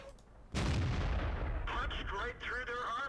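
A tank cannon in World of Tanks fires one heavy, booming shot that penetrates armor, with the blast and its long rumbling tail filling the clip, and talk starting over the tail.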